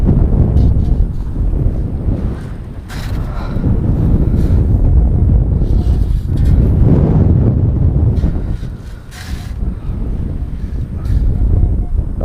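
Strong wind buffets a microphone on Chalkwell Beach, a loud continuous low roar that swells and eases in gusts and completely fills the sound.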